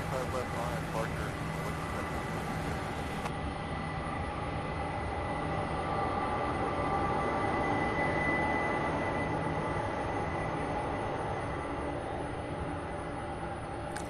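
An MD-11 jet engine roars at an airport during plane spotting, a loud continuous rumble that holds steady throughout, with a voice talking over it.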